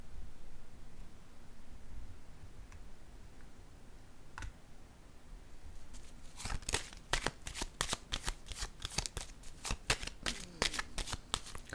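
Cards being shuffled before one is drawn: a few faint taps at first, then a quick run of crisp riffling snaps, close and alone with no voices.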